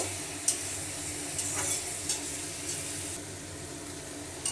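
Kharkol leaves fry with dried chillies, onion and garlic in a pan. An even sizzle is broken by several sharp scraping stirs at irregular intervals, with no talking.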